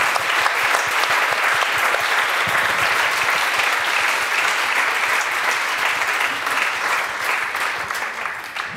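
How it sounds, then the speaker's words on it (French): Sustained audience applause for the organizers at a literary festival talk, a dense steady wash of many hands clapping that fills the room for several seconds before easing slightly at the end. "j'aimerais qu'on applaudisse les organisatrices"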